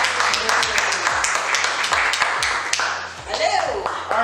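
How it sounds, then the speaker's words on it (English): An audience at a San Francisco book event claps for an author, scattered sharp claps over a roomy background, with some voices and a brief tonal sound late on. "A round of applause."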